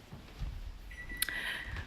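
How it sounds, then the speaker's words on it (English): A kitchen oven timer sounds a short, faint electronic beep over a quiet room hum. "the oven's beeping clearly"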